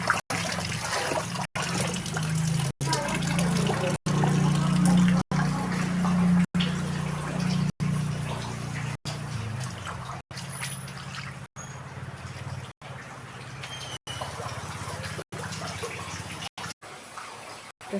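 Flood water covers a house veranda, a steady rushing, trickling wash of water heard close and continuous, with no talking over it.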